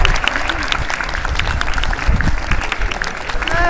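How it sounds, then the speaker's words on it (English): An outdoor street crowd in London applauds a little girl at a bed-of-nails street performance. The clapping is lively and close, with voices and cheers mixed in throughout. "Please give her the biggest round of applause you possibly can."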